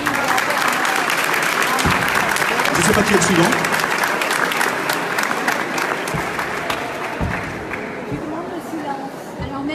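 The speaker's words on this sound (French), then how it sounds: "S'il vous plaît, applaudissez." An audience at an Armenian artists' exhibition salon applauds in a sustained, dense wash of clapping, while someone speaks briefly over it and crowd chatter lingers underneath.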